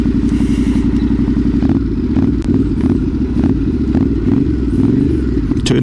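Yamaha Tenere 700 World Raid adventure motorcycle at slow speed, its parallel-twin engine thrumming close and loud with a steady low pulse, brief throttle blips and clattering as it turns tightly off-road.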